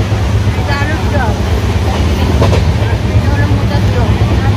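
The Tamralipta Express from Howrah to Digha running along the line, a loud steady rumble and rattle heard from inside a carriage, with people talking over it.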